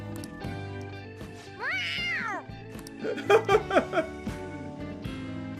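Morgana, the cat character from the video game Persona 5, gives a rising-falling meow followed by a quick run of short chirping cat cries, all over steady game background music.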